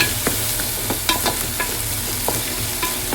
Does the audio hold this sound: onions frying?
yes